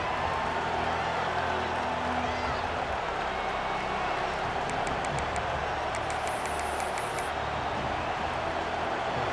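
A stadium crowd roars in the EA Sports College Football 26 video game, a dense, steady wash of cheering noise that holds at an even level, with faint whistles near the end.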